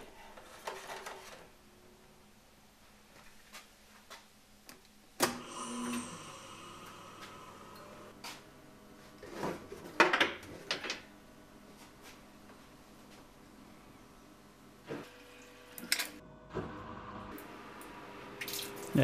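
An upgraded washdown pump on a milling machine switched on, spraying and splashing water in uneven bursts with mechanical clunks and quiet gaps, moderately quiet overall and without talking.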